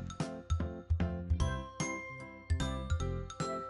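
A school bell rings in bright, repeated metallic dings, a quick run of chiming strikes with ringing overtones, loud and close with no voices.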